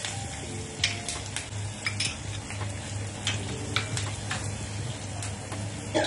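Quiet sizzling in a pan as asafoetida, chillies, curry leaves and sesame seeds are tempered, with scattered light clinks and taps of a utensil, steady background hum, no talking.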